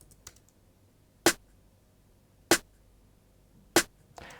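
The D148 electronic snare from Logic Pro's stock single drum snares is struck three times at even intervals of about a second and a quarter. Each hit is sharp and snappy with a quick decay, standing out against near silence.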